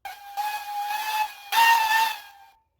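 A loud steam locomotive whistle in a video game blows two long, breathy blasts, the second stronger, ending with a fading hiss.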